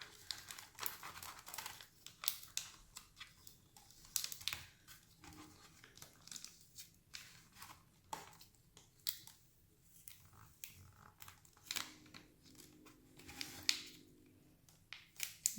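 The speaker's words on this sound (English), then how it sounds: "I'm gonna go ahead and lift up the transfer tape" Transfer tape peeled slowly off a vinyl decal applied to a pumpkin, heard as faint, close crinkling and sticky ripping bursts across the stretch, with small handling ticks and no talking.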